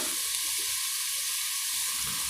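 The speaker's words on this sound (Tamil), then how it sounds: "வெங்காயத்தை நல்லா வதக்கிக்கோங்க நாம் இதில் கருவேப்பிலையை சேர்த்துடலாம்" Onions and curry leaves sauté in a pan for a prawn and plantain gravy, giving a continuous, even hissing sizzle up close with soft bubbling underneath and no talking.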